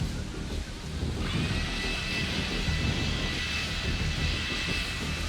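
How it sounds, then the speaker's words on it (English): A battery leaf blower running on its low setting gives a steady broadband rush of air that swells slightly after a second and holds, blowing leaves with a thin high whine on top. "I'm going to start right over here, blow these leaves back towards me."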